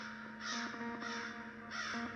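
Loud crows up in tall trees, three harsh caws spaced about evenly apart, close and clear against a quiet background.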